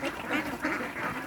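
Ducks in a duck pen quacking, three loud, close nasal calls in an even rhythm, one after another.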